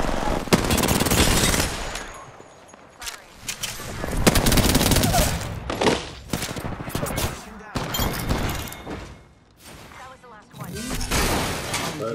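Rapid automatic gunfire from Spitfire and R99 weapons in Apex Legends, dense bursts with short gaps over about twelve seconds, loud and close, with game voice lines and talk mixed in.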